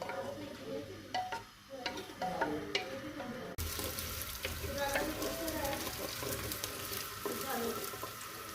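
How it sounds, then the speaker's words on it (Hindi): Onions fry in about half a cup of oil, a steady close sizzle that jumps suddenly louder partway through and then carries on as a dense, continuous crackle, with faint stirring clatter. "आधा कप ऑयल डाल के प्याज को थोड़ा सा ब्राउन करने के बाद"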